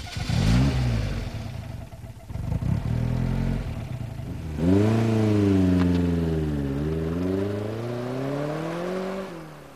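A Lotus sports car engine revs hard and climbs in pitch as it accelerates, dips briefly, then pulls again with a loud, steady, rising growl close by.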